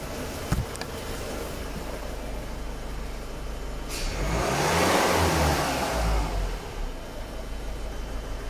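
A Ford C-Max 1.6 TDCi diesel with an uneven, hunting idle revs up in a couple of accelerations, the engine note rising to a loud peak mid-clip and then falling back toward idle, heard up close with no talking.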